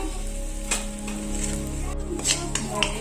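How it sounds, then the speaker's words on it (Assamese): Red chili and cumin masala fry in a pan with a steady, close sizzle, broken by a few light clinks of stirring. "মছলাখিনি ভজা হৈছে।"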